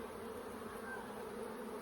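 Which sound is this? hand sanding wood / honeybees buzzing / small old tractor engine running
honeybees buzzing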